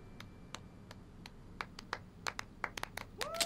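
A handful of sharp, scattered handclaps from a South Park cartoon, irregular and moderately loud over a quiet backdrop, growing a little denser toward the end.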